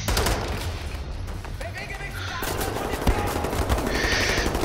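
Pistol gunfire in the video game Wolfenstein The New Order, rapid loud shots crackling in bursts over a dense wash of game noise, with no voice heard in between.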